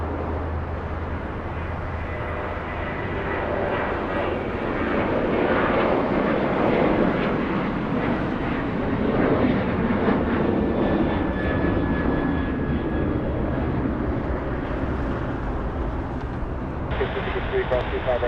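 Jet airliner taking off at LAX, engine roar building from a low rumble to a loud sustained blast before easing slightly, with brief radio chatter joining near the end.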